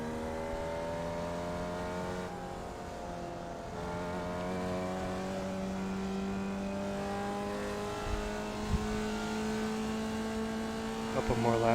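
A simulated Formula Vee race car engine in iRacing at Charlotte Motor Speedway drones steadily through the lap, its harmonics rising and falling with throttle changes, with a couple of sharp shifts or bumps near the end.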